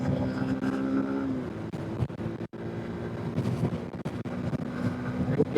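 A Yamaha FZS V4 Hybrid motorcycle engine revs hard, with a brief drop in sound as it shifts gear around 7000 to 8000 RPM, under steady wind rush from riding.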